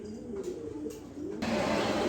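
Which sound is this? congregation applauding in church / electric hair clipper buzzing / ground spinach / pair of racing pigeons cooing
pair of racing pigeons cooing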